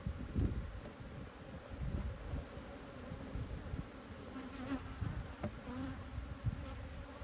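Honeybees swarm and buzz steadily around an open, strong hive outdoors, a dense continuous drone with wind rustle and occasional louder passes of individual bees close by.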